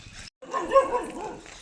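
A dog gives a short bout of barking and yipping while chasing, close by and moderately loud, with a brief silent gap before the main burst.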